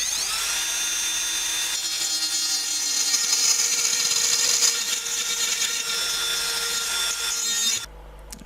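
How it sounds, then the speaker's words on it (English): A Dremel rotary tool cuts into the plastic casing of an old Samsung phone car charger, a steady high-pitched whine held close and loud for several seconds before it stops abruptly. "Time for my Dremel."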